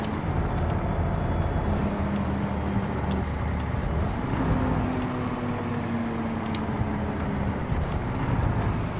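A truck engine drones and hums steadily in the video game American Truck Simulator. The pitch of the engine tone drops and then rises as it shifts gears, under a constant road rumble.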